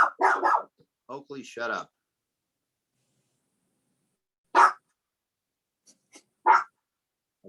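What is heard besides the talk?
dog barking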